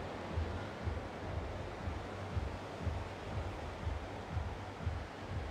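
Surf washes in steady repeated rolls along a beach beside an evening promenade, the water running high onto the sand, with a constant low rushing roar and soft wind noise and no voices.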